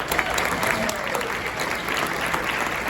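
Audience applause for a speaker at a public address, a dense steady wash of clapping that holds at an even level for the whole stretch, with a faint voice or two mixed in.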